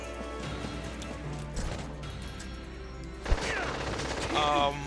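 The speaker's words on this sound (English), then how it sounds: "my counterattack strategy doesn't really work when they fire on me first" Enemy gunfire in the Valkyria Chronicles video game comes as scattered shots and impacts over game sounds, including a sharp crack near the middle and a louder burst at the end.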